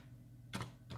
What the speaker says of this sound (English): Just typing it in right now.